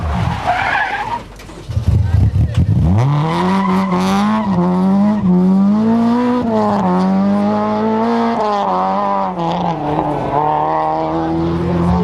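A Shell Nissan rally car drives a stage at the 1996 Manx International Rally, its engine loud and close as it revs through rising and falling gear changes, with tyre noise at the start.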